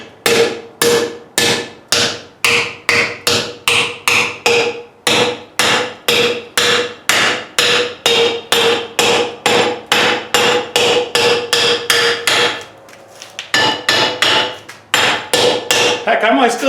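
Steady rhythmic hammer blows forging aluminum, dozens of loud ringing strikes in quick succession close by, with a brief pause near the end before more hits resume, no voices.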